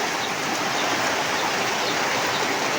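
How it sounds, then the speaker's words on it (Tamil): Steady rain falls outdoors near a gooseberry tree, a dense continuous hiss of drops with faint bird calls in the background and no talking. "இருந்தாலும் மழை பாருங்க"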